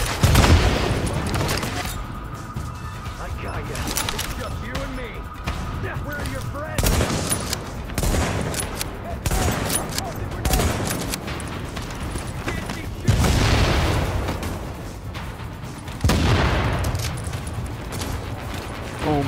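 Video game combat with mortar fire and gunfire: sustained bursts of rapid shots and heavy booms rolling on throughout, loud and dense, with a player talking over the battle.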